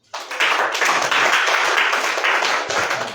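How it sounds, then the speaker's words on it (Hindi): A classroom of students claps their hands together, a dense burst of applause starting abruptly and holding steady for a few seconds. "तालियां बजाओ इसके लिए"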